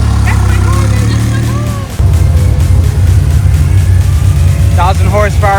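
A 1,000 horsepower Cadillac CTS-V rumbles steadily up close at a car show, its deep engine drone briefly dipping before surging back, with people talking over it.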